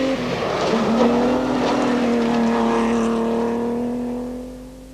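A Mazda rally car races flat out along a forest stage at the 1988 Forests Rally of Tokoroa, its engine note loud and close, rising and holding steady before fading slightly as it passes, with no voices.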